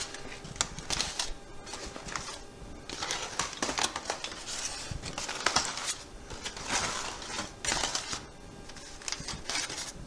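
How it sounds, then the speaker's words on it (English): A smoked pork butt from an offset smoker is unwrapped, giving close crinkling and rustling of foil and paper in irregular bursts, with no talk. "Well, let's unwrap it and see how it turned out."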